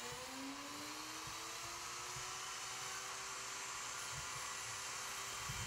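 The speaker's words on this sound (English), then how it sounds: "And here it goes with the router." Router cutting foam for casting, a continuous high whining motor whir with steady broadband hiss throughout, moderately faint and unbroken, with light low thumps underneath.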